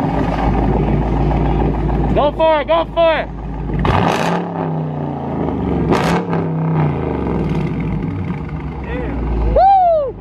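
A Ford Mustang with a newly finished aftermarket exhaust fires up and revs hard, its loud, deep rumble rising in several sharp bursts close by while people talk over it.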